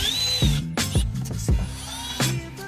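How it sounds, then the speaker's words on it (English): A power drill unscrews the head unit from the dash of a 2003-2006 Honda Accord. It gives several short, close whirring bursts, each with a rising and falling pitch, separated by brief pauses. "So now it's time to, I guess, unscrew this head unit."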